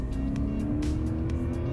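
A race car enters the course at Honjo Circuit, its engine holding a steady, close drone with faint ticking overtones for a couple of seconds.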